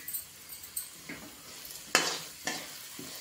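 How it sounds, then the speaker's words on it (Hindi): Semolina stirred and roasted in melted hot ghee in a pan, with a few soft scraping and sizzling strokes of the spoon spaced apart, quiet and close. "अब इसी में मैं डाल दूंगी सूजी और इसे मैं भूनूंगी"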